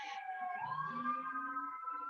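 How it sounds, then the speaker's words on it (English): A wailing emergency siren with one rising sweep and a held tone, faint and in the distance, with no voices over it. "Oh, a second for a siren"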